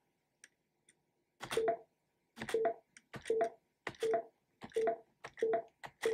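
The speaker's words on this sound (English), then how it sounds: "we can hear the collide sound effect" A collide sound effect plays from an SFML program, a clear synthetic tone repeated about seven times in an even rhythm, each one triggered by a key release, with silence between them.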